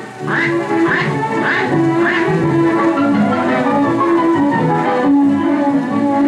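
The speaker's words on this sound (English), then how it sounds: "just a dignified quack quack" Several farm ducks quack loudly and repeatedly in a quick rhythm, with a steady chorus of quacking and chatter continuing throughout, from a 1935 16mm film soundtrack.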